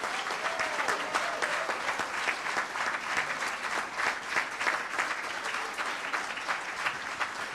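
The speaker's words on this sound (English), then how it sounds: "a big round of applause to all of you" An audience at an India Foundation conference event gives a big round of applause, with dense sustained clapping filling the hall evenly and loudly throughout, without pause.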